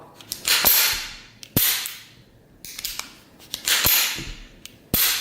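The slide of a first-generation Beretta 81 pistol in 7.65 Browning being racked: four or five sharp, loud metallic clacks and snaps at irregular intervals, close up and alone.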